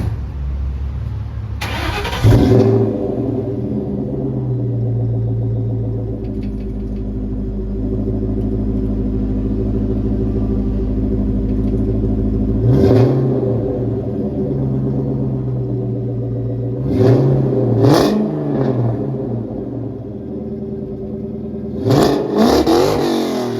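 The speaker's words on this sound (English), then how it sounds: "the exhaust is a Bassani catback system" A 2003 Ford Mustang Terminator Cobra with catless X-pipe and Bassani catback exhaust starts, idles with a deep rumble, then blips its engine in several sharp revs, loud and close.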